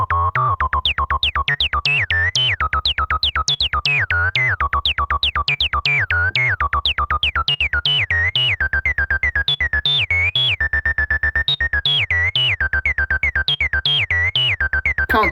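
A Behringer TD-03 synthesizer plays a rapid sequence of short, pitch-sweeping chirps in a steady pulsing rhythm, close and clear like a small bird cheeping, with no voices.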